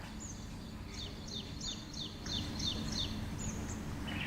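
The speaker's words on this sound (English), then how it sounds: "Become aware of all the sounds in the surroundings, the music of the birds." Birds sing in the outdoor surroundings of a yoga session, a quick run of repeated chirping notes heard faintly and at a distance over a steady low background rumble.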